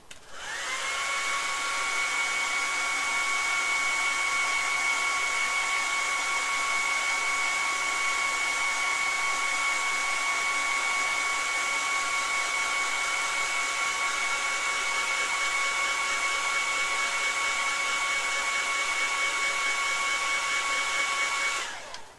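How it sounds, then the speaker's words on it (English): A hair dryer drying paint on a Warhammer miniature blows steadily at close range for about twenty seconds, a constant whirring roar with a high motor whine, switching on and off. "Bit more from the hairdryer."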